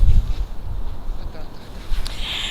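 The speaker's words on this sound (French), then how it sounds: "On est en hauteur donc forcément il y a un peu de vent" Wind rumbles steadily against the microphone on high ground at a troglodyte village, strongest at the start and again near the end, with no clear voices.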